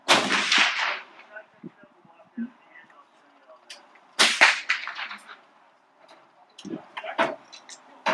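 Rifle shots at a shooting range: a few sharp, echoing cracks spaced several seconds apart, each with a short decaying tail, with a person talking between them.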